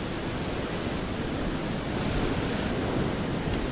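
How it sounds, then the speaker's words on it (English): Steady rushing noise of a waterfall in a video game, a broad constant wash with no breaks or other sounds. "Sounds like it's coming from right here specifically, but I don't see no dang waterfall"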